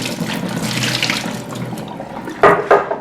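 Tap water runs steadily into a kitchen sink as soaked almonds are rinsed for homemade almond milk, a close splashing flow that ends in a couple of sharper splashes.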